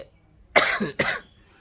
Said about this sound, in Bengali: কাশি হারলো না